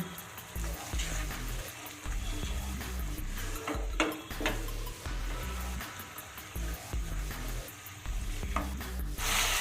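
Ginger and green chilli paste frying with spices and salt for a doi potol curry, a steady sizzle broken by rhythmic scraping and clinking strokes of a spatula in the pan.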